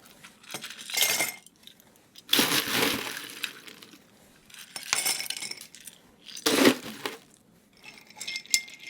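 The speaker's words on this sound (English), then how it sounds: "And then we ice these down and give them a stir." Ice cubes clinking and rattling against a glass as a club cocktail with orange bitters is stirred, in several irregular bursts of soft, close clatter with quiet gaps between them, no voices.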